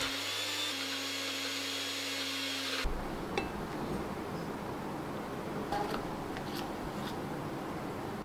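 A steady electric grinder whirs loudly while old bread pieces are ground into powder, the motor pitch shifting partway through.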